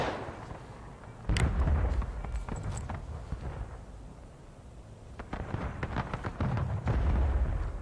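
Musket and rifle fire in the Civil War shooter War of Rights crackles in scattered shots and ragged volleys, some close and sharp, others distant, over a steady background rumble.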